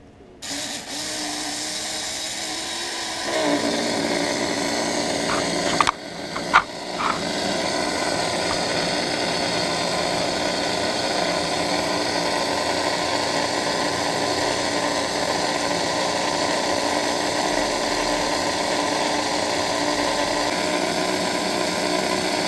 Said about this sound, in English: So let's put it on the dyno. See what she'll turn right out of the package here.